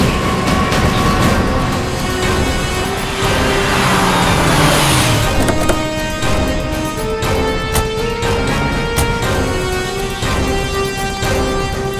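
A car reversing to climb back onto a road after slipping off it, a loud revving engine straining under a dramatic music score with no talk.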